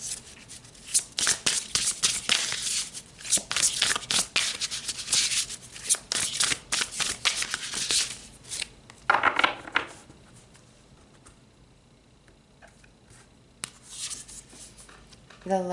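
Tarot cards are shuffled by hand in repeated close, crisp riffling bursts with short pauses between, fading to quieter handling near the end.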